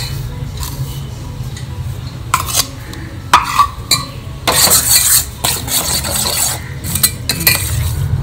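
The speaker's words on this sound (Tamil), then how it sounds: "இந்த தயிரில் நம்ம நல்லா மிக்ஸ் பண்ணி வச்சுட்டோம்" Ground spice paste being mixed into curd in a bowl, close wet stirring with a spoon that clinks and scrapes against the bowl in irregular bursts, no talking.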